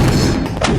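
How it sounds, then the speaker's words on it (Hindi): A single heavy cannon shot from a battle scene, delivered as a short, loud, deep thud that booms and fades within a second. "गुल बादशाह ने तोपों को आगे बढ़ाने का हुक्म दिया और निशाना लगाकर तोप चलाने को कहा"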